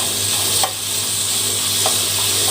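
Chopped garlic frying in a little hot oil, heard as a loud, steady, dense sizzle with a couple of faint stirring scrapes, close up and with no talk.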